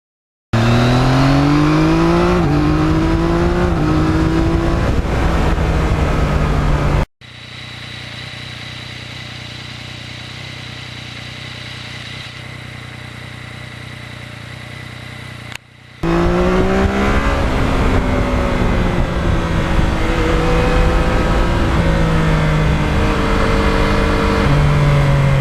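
A 2020 Yamaha MT-09 motorcycle with a clampless, muffler-free one-piece exhaust revs loudly and close, its pitch rising and falling through repeated throttle blips, with a quieter steady idle stretch in the middle before hard revving resumes.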